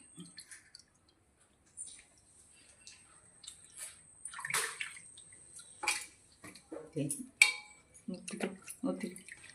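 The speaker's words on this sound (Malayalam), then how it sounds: "നന്നായിട്ട് വെള്ളം പിഴിഞ്ഞിടണം" Hands squeeze water out of fish pieces being mixed for a fish fry, giving intermittent close wet squishes, drips and splashes between quiet pauses, with a voice at times.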